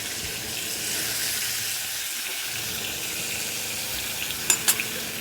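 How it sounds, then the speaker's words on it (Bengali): Hilsa fish sizzles in hot oil with kalo jeera (nigella seeds) in a pan, a steady broadband frying hiss. Near the end a few sharp scraping knocks are heard as the fish is stirred. "মাছটা দিয়ে দিচ্ছি তেলের মধ্যে, দিয়ে একটু নাড়বো।"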